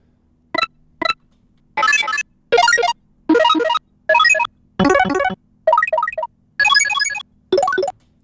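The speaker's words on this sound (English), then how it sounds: "think of things like the fire flower or your power-ups, right? All the different things that your character would pick up" A series of about ten short synthetic video game pickup chimes, bright sparkly bleeps and arpeggios separated by brief silences, one after another.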